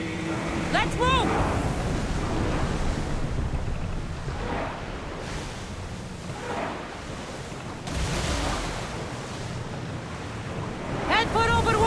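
Sea waves and wind surround a sailing ship in Assassin's Creed Odyssey, a steady roar of surf and gusting air with characters talking over it.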